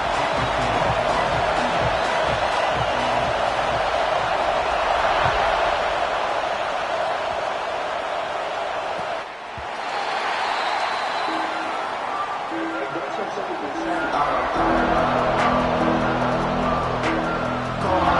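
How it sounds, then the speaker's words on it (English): Football stadium crowd at the kickoff of a Utes game, a dense, loud roar of many voices sustained throughout with a brief dip midway, a commentator's voice mixed in. "This crowd ready to make its presence known."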